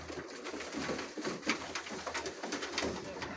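Tumbler pigeons, a Turkish play-bird breed, cooing in a loft, repeated soft throaty coos close by, with faint voices underneath.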